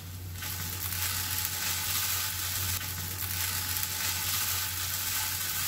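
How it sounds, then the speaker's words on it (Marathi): Sabudana khichdi with crushed roasted peanuts is sautéed in a pan over a low flame, a steady close sizzle with soft stirring scrapes that runs without a break and with no one speaking. "कमी गॅसवरती मी खिचडी परतते."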